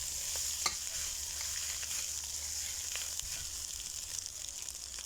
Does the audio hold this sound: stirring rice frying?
yes